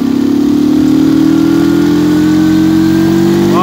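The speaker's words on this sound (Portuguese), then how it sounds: "vou acelerar aqui, vou trocar de marcha, vocês vão ouvir" A semi-automatic motorcycle engine in third gear runs steadily and loudly up close, its pitch rising slowly as it accelerates toward a gear shift, with no talking.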